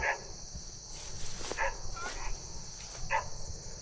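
A dog barks a few times at a distance, spaced out, over a constant high insect drone outdoors on a sheep pasture with walnut trees.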